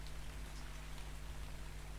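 Steady rainfall in the survival video game ARK, a dense continuous patter of raindrops on surfaces with a low hum underneath, even in level throughout and with no talking.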